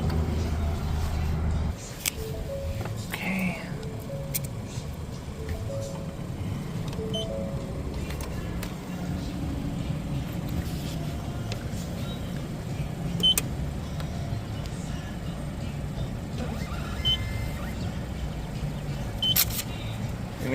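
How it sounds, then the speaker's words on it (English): Mark VII Aquajet XT automatic car wash at Frog's Express Car Wash in Huntington Beach, California, heard from inside a car: low machine rumble and spraying water, with scattered clicks and hisses over the full run. "And we enter the car wash now."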